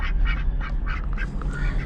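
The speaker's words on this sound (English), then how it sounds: "And here's the ducks." Ducks quack repeatedly in a close, steady chatter on a farm, the calls overlapping without pause and loud throughout.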